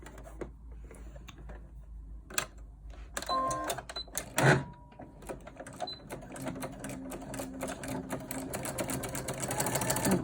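Sewing machine stitching a cloth face mask at a quarter-inch seam, a steady mechanical whir running in bursts with brief pauses and faint clicks, close and fairly loud with no talk.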